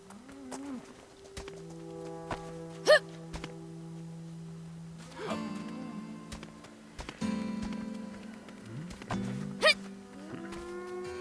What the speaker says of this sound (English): Was that a cow I just heard?